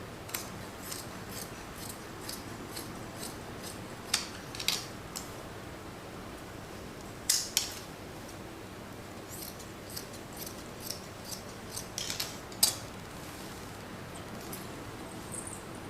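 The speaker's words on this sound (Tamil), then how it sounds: "அதே அளவுக்கு நம்ம இன்னொரு பிட்டும் கட் பண்ணிக்கலாம்" Scissors snip through four stacked layers of cloth for a churidar pant, making sparse, quiet cutting clicks at irregular intervals against a faint steady room hiss.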